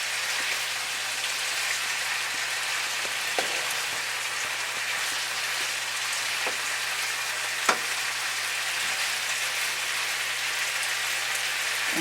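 Beef and vegetables frying in a pan for pepper steak, a steady close sizzle with occasional sharp clicks and scrapes of stirring, no voices.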